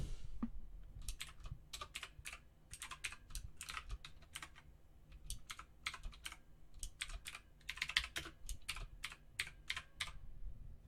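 Python code is typed on a computer keyboard in a quiet room. Keys click in uneven, steady bursts with short pauses over about ten seconds, close up and fairly soft.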